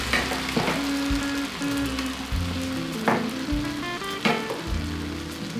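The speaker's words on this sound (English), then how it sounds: "my oil is hot and then I will dip it in my batter and then I will put my banana in the oil" Battered banana slices deep frying in hot oil on a stove, a steady close crackling sizzle with a few louder bursts as pieces drop in, no voices.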